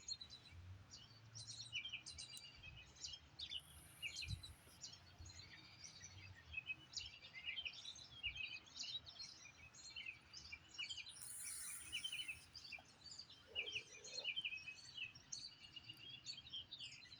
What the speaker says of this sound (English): Listen to the birds go.